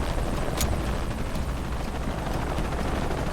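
In the video game Shadow of the Tomb Raider, a helicopter keeps up a loud, continuous rotor roar and thump, with faint sharp cracks like distant gunfire breaking through the dense noise.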